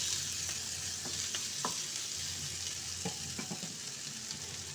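Egg fries in a pan with spices, giving a constant close sizzle broken by scattered scraping and tapping from a spatula as it is stirred, with no voices.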